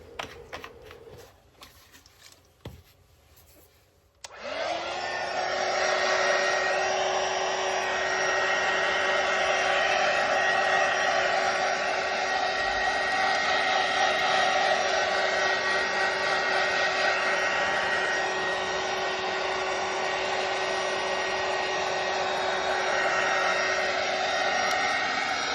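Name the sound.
heat tool drying neurographic artwork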